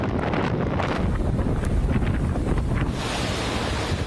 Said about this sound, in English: Roaring into the northern islands Sunday with a 185-mile-per-hour wind, gusts potentially to 220 miles per hour